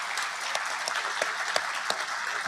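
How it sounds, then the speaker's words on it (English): Guests at an awards dinner applaud in a steady, close, full round of clapping, with a few sharper individual claps standing out over the crowd. "Let's give them a round of applause, please."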